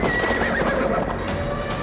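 A horse whinnies loudly and close while hooves clip-clop steadily underneath, a dramatic film-teaser sound with no voices over it.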